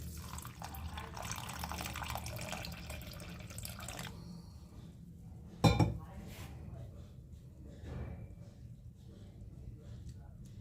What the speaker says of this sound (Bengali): ভাজা মুগ ডালটা 2-3 বার ভালো করে জল দিয়ে ধুয়ে নিতে হবে।